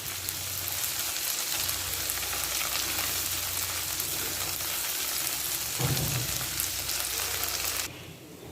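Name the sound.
chopped onion with ginger garlic paste frying in a pan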